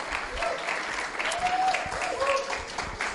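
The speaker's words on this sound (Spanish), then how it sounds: "denle un aplauso a la Cata" A church congregation applauds during a Sunday service, steady close clapping from the crowd with a few voices calling out over it.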